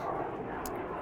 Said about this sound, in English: Sorry for the plane up in the air.